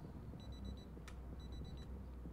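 An alarm clock rings in the video game Project Zomboid, sounding as two short bursts of high repeated beeps, one early and one later, over a steady low background rumble with no talk.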